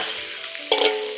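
Cooking wine splashing into a hot wok with ginger and scallion, giving a short, sudden burst of sizzling partway through over a quieter background of frying.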